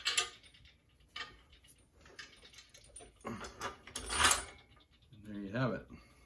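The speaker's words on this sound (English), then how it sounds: "the handle ratchets" A ratcheting handle tightening down the bearing block on a Harbor Freight bead roller, giving short bursts of close metallic clicking and ticking, with a voice speaking briefly in between.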